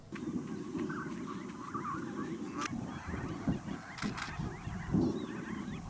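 A flock of flamingos calling in a honking, goose-like chorus on the Lake Van shore in Turkey, overlapping cries rising and falling at moderate distance with no talking.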